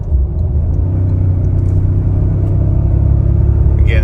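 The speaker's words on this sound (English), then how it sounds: "Let's do a little pull from 60 real quick." A 2024 Toyota Tacoma TRD Off Road pulling from 60 mph, its engine a steady, loud, close cabin rumble with a droning tone and no talk over it.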